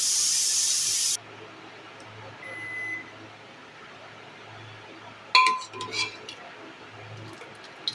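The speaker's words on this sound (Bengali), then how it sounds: "তারপর প্রেসার কুকারের ঢাকনাটা আটকে দেবো।" A metal pressure cooker lid is clamped shut, a few sharp clinks and knocks of metal on metal at close range after a quiet stretch, with a brief hiss at the start.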